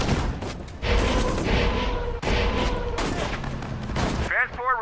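Troops returning fire in the wartime strategy game Sudden Strike 4: dense volleys of rifle and machine-gun shots crackle in repeated bursts, loud and continuous, with a short gap midway.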